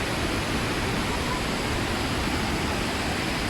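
Large waterfall in Chiapas, Mexico, a continuous loud broadband roar of rushing, crashing water, heard close and unbroken with no voices.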